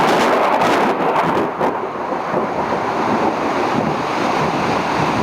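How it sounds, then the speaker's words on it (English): A big storm with heavy wind and rain sweeping through a suburb lined with large trees, roaring loudly and continuously with gusty surges and microphone buffeting, and no one speaking. "I knew it would be a big storm. I think this officially qualifies as a big storm."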